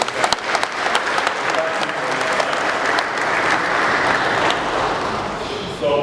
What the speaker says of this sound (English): I want us to clap